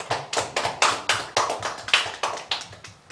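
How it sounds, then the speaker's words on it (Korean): Church congregation clapping together in a Sunday worship service, about a dozen sharp, evenly spaced unison claps in a steady rhythm, moderately loud and close, with no talking. "우리에게 은혜 주신 하나님께 영광의 박수 올려드리겠습니다."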